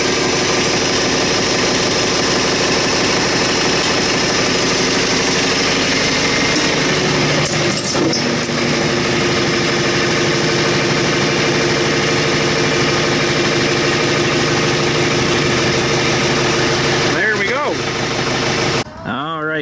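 A tractor engine idles steadily up close, a continuous mechanical hum and rattle that holds for about twenty seconds, with a short clatter near the end.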